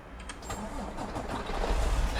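A bus engine in the video game Euro Truck Simulator 2 cranks and catches, then settles into a rising, rumbling idle that grows louder toward the end, with no voices.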